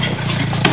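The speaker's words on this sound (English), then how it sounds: "You gotta fix that microwave. It's so old, it sounds like a rusty car engine." An old kitchen microwave running with a rough, rattling hum like a rusty car engine, steady and close for under a second with a brief louder clank near the end.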